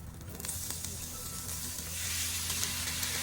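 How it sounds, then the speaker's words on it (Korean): Monjayaki batter sizzles and fries on a hot griddle at a late-night restaurant in Asakusa, Tokyo, a steady close hiss with faint scraping, growing slightly louder partway through. "몬자야끼는 오코노미야끼와는 다르게 양배추 반죽에 원을 만들어 반죽을 부어 넓게 펴서 먹는 음식으로 도쿄 사람들의 소울푸드라고 해요."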